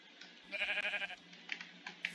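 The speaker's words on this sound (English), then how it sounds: "There's a sheep somewhere. That's for sure. I keep hearing sheep" A sheep bleats in the Minecraft video game as a wavering, fairly faint bleat, followed by a few soft clicks and taps in an otherwise quiet scene.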